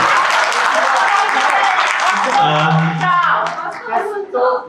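A crowd claps loudly at first, the applause fading as voices and cheering rise over it toward the end.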